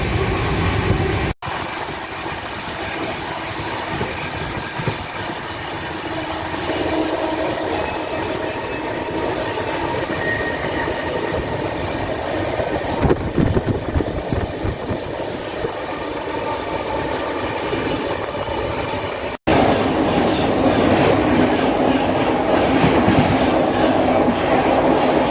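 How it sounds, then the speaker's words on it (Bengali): Kamayani Express from Ballia to Lokmanya Tilak Terminus rolling past, a loud continuous rumble with rhythmic wheel clatter over rail joints and occasional brief squeals, sustained throughout with no talking. "এখন আমাদের সঙ্গে যে ট্রেনে দেখা হবে সেটি হলো Balia two Lokmanya Tilak terminal Mumbai কোমায়ানি express"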